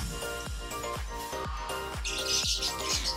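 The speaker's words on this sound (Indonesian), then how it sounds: "Nah, ini dia taman kandang burung." Oriental magpie-robins and white-rumped shamas chirp steadily in an outdoor aviary beneath a tree, with bright overlapping calls and a repeating rhythmic undertone, fairly close and continuous.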